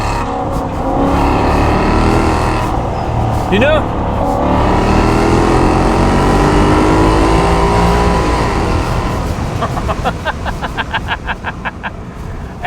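2009 Maserati Quattroporte facelift engine while driving, a loud continuous engine drone with a rising and falling pitch as it revs, heard from inside the car with someone talking over it.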